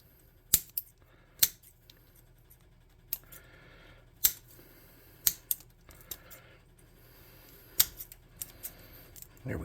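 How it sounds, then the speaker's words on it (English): Scissors snip material into small irregular tufts for tabletop terrain bushes, a series of sharp, close, separate cuts spaced irregularly over a quiet background. "So I'm just going to snip these off into little irregular shapes"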